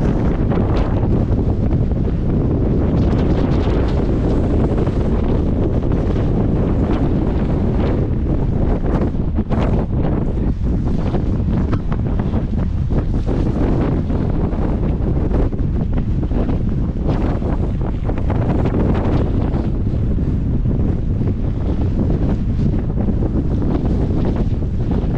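Strong wind buffets the microphone during a bicycle ride in a loud, continuous low roar that rumbles and gusts without letup throughout.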